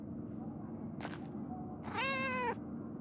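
A cat meows in the Pentiment video game, a short chirp followed by a longer, clear harmonic meow over a steady low background hum, with no talking.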